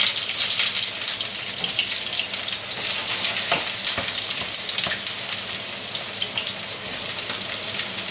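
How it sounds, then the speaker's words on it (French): Courgettes fry in a hot pan with a loud, steady, close sizzle that stays dense and unbroken throughout, with no voices. "the pan is hot for the courgettes, so let's start to them"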